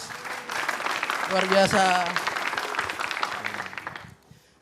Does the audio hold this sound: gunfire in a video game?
no